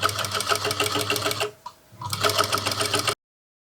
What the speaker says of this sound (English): sew on the binding. Make sure to back stitch at the beginning and at the end of the sewing.